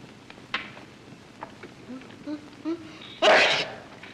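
A man gives a single loud, close sneeze in an old Telugu film scene, a sharp burst that follows a few faint, scattered background sounds.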